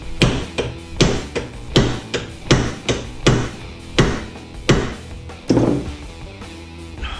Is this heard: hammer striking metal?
yes